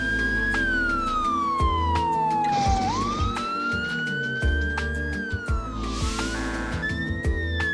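A police car siren wails loud and close as the car approaches an intersection, its tone sweeping up and down steadily over road traffic noise.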